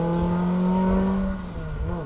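A rally car on a Manx Rally stage roars past, its engine note high and strained before dropping and fading as it moves away, loud and close with no talk over it.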